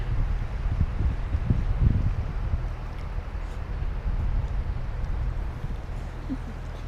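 Cold wind gusting across an exposed rocky mountain summit in Acadia National Park, a steady low roar buffeting the microphone with stronger blasts early on, heard alone without talk.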